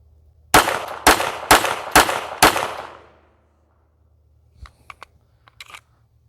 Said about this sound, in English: And finally 5 rounds of the Federal Punch.